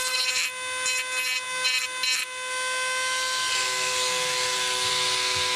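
A Dremel rotary tool cuts through a Windy U Master 825 boat canopy, a high-pitched steady whine that stutters in short bursts before settling into a continuous loud grind, with no talking.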